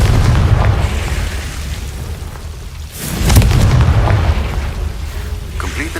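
A Confringo blasting spell goes off in Hogwarts Legacy as a loud, rumbling explosion that swells after a brief dip, over continuous booming game ambience, heard up close and alone.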